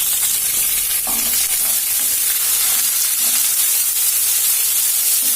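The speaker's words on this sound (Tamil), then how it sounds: "அடுத்தது 1 கொத்து கருவேப்பிலை சேர்த்து நல்லா வதக்கிக்கணும்." Small shallots and a sprig of curry leaves sauté in hot oil with popped mustard seeds in a pan, giving a continuous close, loud sizzle and frying hiss, with occasional stirring clinks and no talk.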